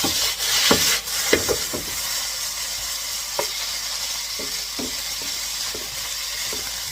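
Steady hiss and sizzle of vegetable lo mein noodles stir-frying in a hot pan, with occasional clicks and scrapes of stirring, close and continuous with no talk.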